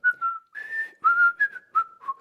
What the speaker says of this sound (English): It was whistling.